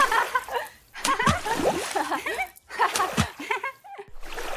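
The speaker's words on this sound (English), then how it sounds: "And they are splashing water all around." Children splashing water in a bath, in an animated English-learning scene: lively bursts of splashing come in uneven clusters with short pauses between, mixed with light giggles and chatter.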